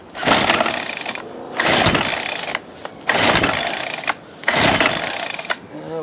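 A Ryobi SS30 string trimmer is pull-started four times in a row. Each loud, rasping, whirring pull lasts about a second and is followed by a short pause, and the engine never catches.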